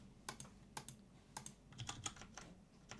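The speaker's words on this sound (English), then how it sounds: "can't type anymore" Quick, irregular clicks of keys being struck on a computer keyboard, close and fairly quiet, in a steady run of a dozen or so taps without any speech.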